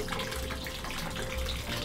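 Water from a mountain fountain in the Val d'Aosta runs in a steady, continuous splash, a close, even rush with no talk.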